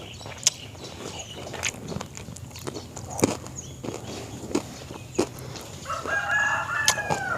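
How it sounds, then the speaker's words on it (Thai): Rural Thai farmyard with a rooster crowing amid clucking chickens and ducks, the calls sounding at moderate distance over footsteps and small knocks, with a louder burst of bird calls near the end. "เสียงเป็ด เสียงไก่"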